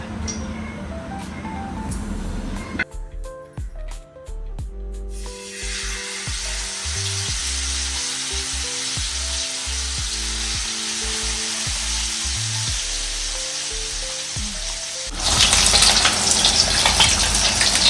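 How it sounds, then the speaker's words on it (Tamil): Marinated fish fries crisply in hot oil, giving a loud, bright sizzle at the start and again at the end, with background music filling the stretch in between. "இப்போ மீன் நல்லா ஊறி இருக்கு. மீன் வறுத்து எடுத்துக்கலாம்."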